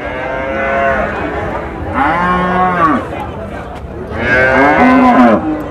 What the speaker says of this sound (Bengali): আচ্ছা গাফার ভাই এই গাভীটা ফ্রিজিয়ান?